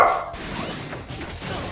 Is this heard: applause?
no